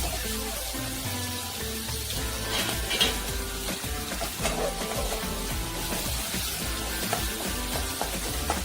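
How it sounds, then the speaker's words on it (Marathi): Curry leaves and finely chopped onion fry in a pan with a loud, continuous sizzle and crackle, while a utensil stirs and scrapes throughout. "कढीपत्ता हे आपण शिजून घेणार आहोत"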